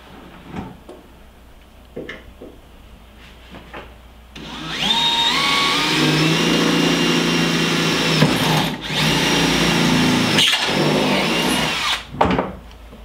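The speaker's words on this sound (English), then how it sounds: "Little pilot hole for those." Power drill boring small pilot holes during a truck upgrade, whirring steadily for several seconds with a brief pause and pitch shifts, then stopping amid light handling clatter.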